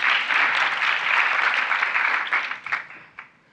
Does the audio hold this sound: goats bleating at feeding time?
no